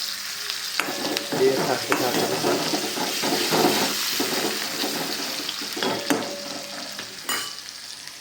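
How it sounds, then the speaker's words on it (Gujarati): Chillies and onion fry in a pan with a steady sizzle and occasional stirring scrapes, while people talk intermittently over the cooking. "મરચાં નાખી દેવા. ડુંગળી નાખી દેવા, શેકાઈ જશે."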